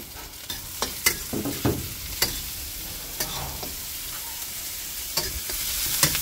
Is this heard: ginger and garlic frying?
yes